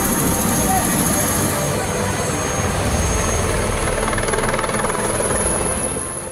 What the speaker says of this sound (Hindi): इस ऑपरेशन के लिए भारतीय सेना के चिनूक हेलीकॉप्टर को